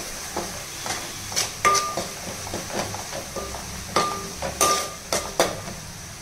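Ginger garlic paste frying in a pan with a soft, steady sizzle, broken by intermittent sharp clinks and scrapes of a spoon stirring against the metal, close and fairly quiet.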